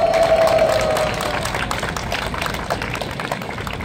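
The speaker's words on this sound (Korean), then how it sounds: "모두 당선시켜주겠다고 또 박수 한번 부탁드리겠습니다" Crowd applause at an outdoor Democratic Party campaign launch rally at Guri Station, a steady wash of clapping throughout, with a tonal hum fading out in the first second.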